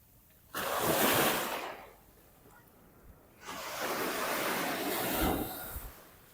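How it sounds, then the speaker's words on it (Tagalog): Strong ocean waves break on a beach in Olongapo, Zambales, as two loud rushing surges of surf, each lasting a couple of seconds with a quieter lull between them and no talking. "Grabe lakas ng alon ngayon, no?"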